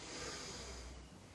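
Slow, audible breathing during a yoga session, a soft airy inhale and exhale close to the microphone, faint and alone without talk.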